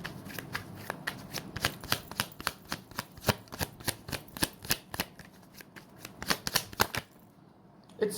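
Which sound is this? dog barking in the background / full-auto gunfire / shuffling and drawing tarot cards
shuffling and drawing tarot cards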